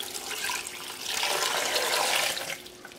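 Water is poured into a blender holding red prickly pears, giving a soft, steady splashing stream that swells in the middle and then tapers off, quiet and with no voices.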